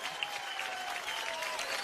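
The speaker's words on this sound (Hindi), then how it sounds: "परिणीति के लिए एक बार जोरदार तालियां हो गए" Studio audience applause at a TV comedy show, a steady wash of clapping that holds at even strength for the whole stretch, with no voices over it.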